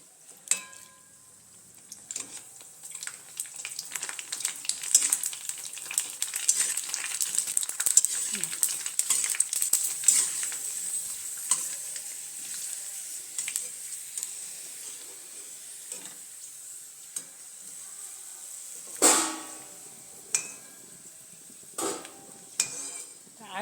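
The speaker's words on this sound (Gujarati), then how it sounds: "એમાં આપણે આ બધી પૂરી તળ નાખવી." Puris deep-frying in hot oil for pani puri, a steady broad crackle and sizzle running through with occasional clinks of utensils, loudest in bursts, with a voice speaking over it at times.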